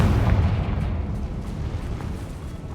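A Confringo blasting spell explodes in the Hogwarts Legacy video game, a loud, close, low rumbling boom that sustains and slowly fades over a couple of seconds.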